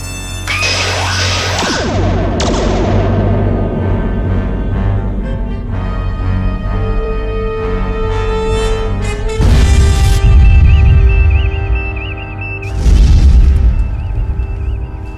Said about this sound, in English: Photon torpedoes, broadest possible spread. At this range, the blast will impact us as well.